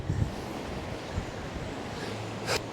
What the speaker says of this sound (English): That wind's probably about 45 mile an hour now with the radio mics on.